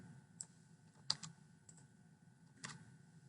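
Sparse, quiet clicks come from a computer keyboard as a few scattered keystrokes are tapped alone over a low background hum.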